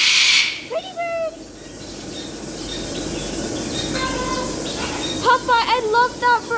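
A pet parrot making short chirps and whistling calls, one burst early and a louder, rapid series near the end over room noise, with people talking nearby.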